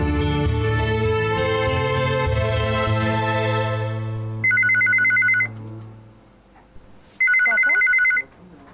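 A telephone rings in two separate electronic bursts, loud and close, following a sustained musical chord that fades out.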